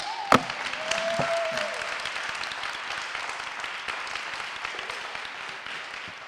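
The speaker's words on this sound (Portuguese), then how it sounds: "uma salva de palmas para a Eliane Costa" An audience claps for a speaker being welcomed to the stage at a talk, with broad, steady applause that continues evenly after a sharp knock at the start.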